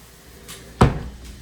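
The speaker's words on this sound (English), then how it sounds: "that's the toilet with a sliding door" A single sharp knock and slide of a sliding door on the toilet in a hotel bathroom in Benidorm, brief and close against quiet room tone.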